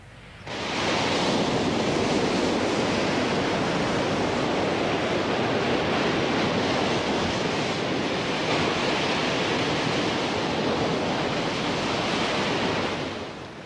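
Atlantic sea waves break on the rocky shore of Galway Bay as a dense, continuous roar of surf and spray, loud and steady throughout with a gentle fade in and out.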